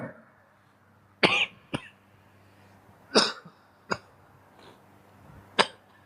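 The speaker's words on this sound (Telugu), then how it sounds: "క్షమించండి, కొంచెం దగ్గు." A man coughs several times in separate harsh bursts with a throat-clear among them, close up, with quiet pauses between.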